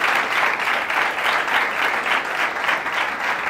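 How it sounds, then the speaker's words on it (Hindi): Congregation applauding at a church service, a loud, dense, steady clapping from a crowd close by for several seconds, no talk over it. "जोरदार तालियां यीशु मसीह के लिए"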